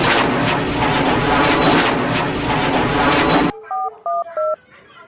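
A jet airplane roars loudly and steadily overhead for several seconds, then cuts off abruptly, followed by a few short telephone keypad beeps.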